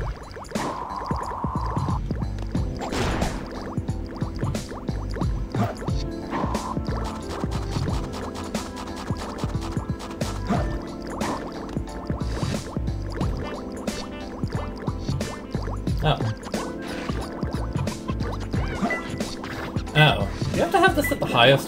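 Water rising in a stage of the video game Sonic Adventure 2: Battle, a filling, dripping liquid wash under busy game music and sound effects, with a person talking over it.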